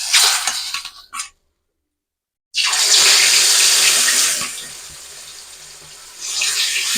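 Rui fish pieces slipped into hot turmeric-tinged oil throw off a loud, bright hissing sizzle that cuts out briefly, then returns, eases and swells again.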